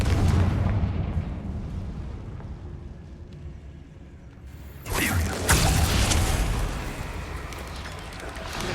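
A Confringo fire spell explodes in the video game Hogwarts Legacy: a sudden loud blast bursts out midway over low rumbling game ambience, followed by a sustained crackling, roaring tail.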